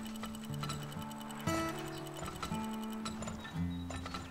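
Rhythmic clip-clop of horse hooves in the video game Turmoil, over a steady tonal music bed, with regular ticking accents throughout.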